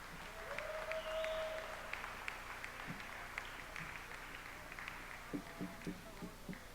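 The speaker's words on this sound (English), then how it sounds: "Give yourselves a big round of applause." Applause from the audience at the racquetball US Open finals, a broad, even roar of clapping that fades and thins into scattered claps, heard at a distance in a large venue, with faint voices underneath.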